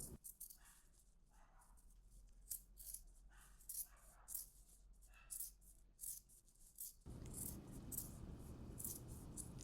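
Scissors snipping back a fabric seam on a blouse, a series of soft, close cutting clicks spaced irregularly, followed by a steadier rustling noise.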